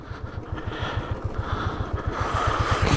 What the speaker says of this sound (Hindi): ब्लैक आइस आती हुई भाई तगड़ी वाली, और स्लिप कर रही बाइक